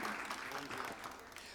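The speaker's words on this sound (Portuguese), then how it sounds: "Vamos dar uma salva de palmas ao Padre Cleomar, que está chegando." Applause from a church audience welcoming Padre Cleomar as he arrives, a short, steady burst of clapping that overlaps with voices.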